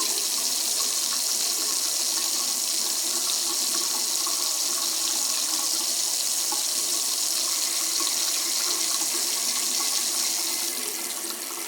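A faucet runs steadily into a sink, fitted with an LED gadget that glows as the water heats; the stream makes a continuous, close splashing hiss with no speech.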